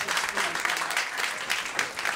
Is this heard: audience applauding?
yes